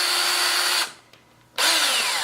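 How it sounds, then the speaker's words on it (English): A power stripping tool cuts through the jacket of a 1/2-inch super flexible coaxial cable, whirring steadily and loudly, cutting out for a brief pause, then spinning up again. "So stripping the cable is pretty simple."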